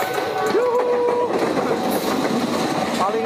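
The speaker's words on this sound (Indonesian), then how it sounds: "dua kereta masuk" Two commuter trains roll into Pondok Jati station in Matraman, Jakarta, making a steady, loud rumble with drawn-out metallic squeals and tones riding over it.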